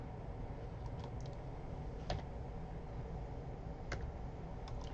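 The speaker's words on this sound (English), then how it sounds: "start with a fresh spreadsheet and start typing number of shoes per pair" Keys tapped on a computer keyboard while entering figures into a fresh spreadsheet, a few soft scattered clicks over a steady faint hiss, with no voices.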